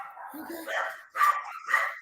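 A pet dog barks and yips several times in short bursts indoors, close to the microphone, mixed in with someone talking during a live sports chat stream.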